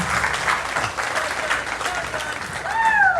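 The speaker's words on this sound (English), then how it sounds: "you need to take a round of applause" A crowd claps steadily in sustained applause after a speech, fairly distant in a large room, while a voice speaks briefly over it at the end.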